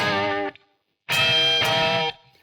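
Heavy electric guitar tone run through distortion effects in Reaper, two loud sustained distorted chords or riffs separated by a brief gap, the second with scratchy attacks, no talking.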